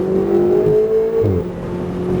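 A Ferrari revs hard on a race track at NCM Motorsports Park, its loud engine note climbing steadily before a brief dip and shift, then carrying on in a strong, continuous roar up close.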